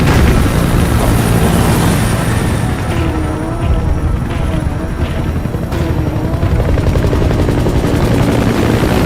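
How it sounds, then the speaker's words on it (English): Support helicopter in the video game Metal Gear Solid 5: The Phantom Pain, a loud, steady rotor roar that fills the whole stretch without a break, close and dominant, with no voices over it. "Support helicopter requested."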